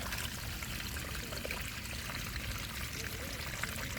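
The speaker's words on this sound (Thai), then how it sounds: "ตรงที่น้ำไหลลงมา" Rainwater pours down a grassy bank into a flooded channel, a steady, full rushing and splashing that never lets up, close by and fairly quiet, with no voices.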